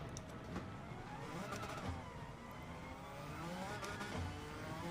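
A car engine drones and revs on a dirt track in the Gran Turismo 7 racing game, a steady, moderately quiet engine roar with gravelly tyre noise and no voices.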